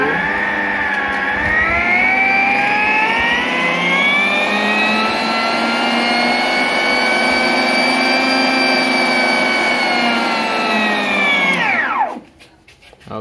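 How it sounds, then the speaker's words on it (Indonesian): A Turbo EHM9595 stand mixer, just repaired with a new drive belt, runs at speed 1 with a loud, steady whirring motor hum whose pitch rises slightly as it spins up, then cuts off abruptly near the end. "Sekarang saatnya kita tes mixer turbo ini. Ini di speed 1."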